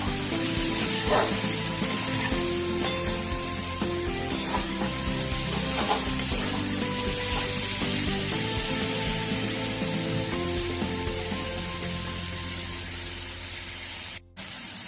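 Spice paste (masala) for mutton fat ghugni fries in a pan with a dense, continuous sizzle and occasional stirring scrapes. It fades a little near the end and has no talking.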